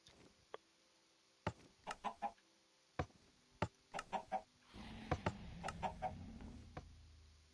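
Minecraft chickens cluck in short sharp bursts, singly and in quick clusters, against a quiet game background with a faint ticking, moderately close and without talking.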